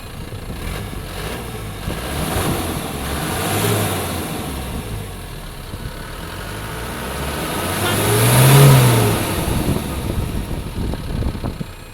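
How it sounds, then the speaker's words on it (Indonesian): An Isuzu Panther diesel engine revs nearby, a rough, gravelly drone rising and falling through two swells, the second louder, over a steady idle clatter, with no talking. "Jadi memang suaranya tuh udah khas banget diesel dari sebuah Panther gitu ya"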